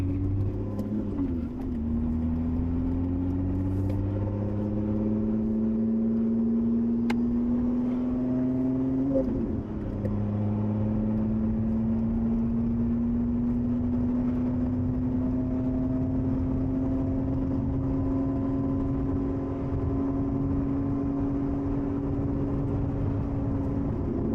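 A Lotus Emira V6 sports car drives along a curvy road, its engine a steady, moderately quiet drone that rises and falls gently with shifts, heard from inside the car.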